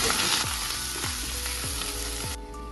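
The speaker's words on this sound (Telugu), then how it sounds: "కొంచెం కరివేపాకు, పచ్చిమిరపకాయలు, వెల్లుల్లి ఫస్ట్ వేస్తే మాడిపోతుంది, అందుకని ఇప్పుడు వేయాలి." Curry leaves, green chillies and garlic fry in a pan with a dense, continuous sizzle and regular spoon scrapes about every half second, close and steady before fading slightly at the end.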